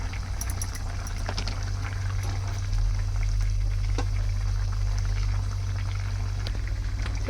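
Ghee goes into a simmering potato and paneer curry, giving a steady bubbling, sizzling hiss over a constant low hum, with small scattered clinks, fairly loud and close.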